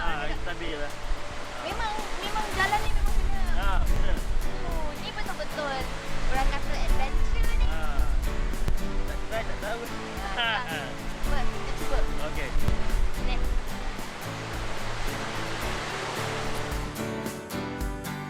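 Broad rushing roar of the lowest tier of a tall Southeast Asian waterfall, a steady loud wash of falling water filling the scene throughout, with music and a voice layered over it.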